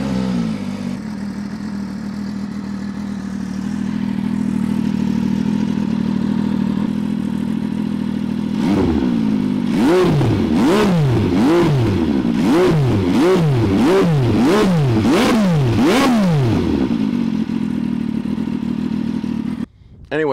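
An MV Agusta F3 800 motorcycle with a modified stock exhaust idles close by, then revs sharply about ten times in a quick rhythmic series before settling back to idle.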